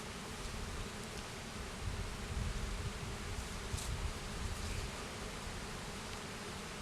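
A dense, continuous buzz of many honey bees humming close by around a hive, steady throughout with faint rustling underneath.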